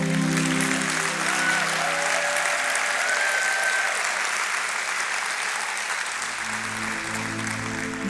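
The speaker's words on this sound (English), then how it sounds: "So I think we can give them a very big applause." Audience applause fills the room at an event on growth and sustainability, a steady, dense wash of clapping from a large crowd that holds evenly loud for the whole stretch with no voices on top.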